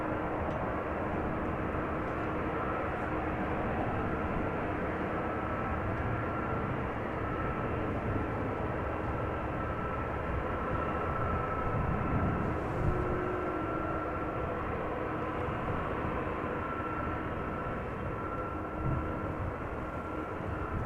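Airliners at Amsterdam Schiphol Airport around runway 18 Center, heard as a sustained heavy roar lasting the whole stretch, broad and fairly even with slight swells, no voices.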